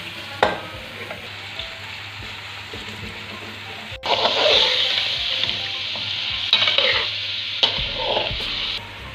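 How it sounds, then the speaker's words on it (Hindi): Half a kilo of chicken fries and is stirred in a pot for biryani, with steady close sizzling, scraping stirs and a louder burst of frying partway through; no talking. "अब इसको भूनेंगे जब तक इसका कलर चेंज नहीं हो जाता।"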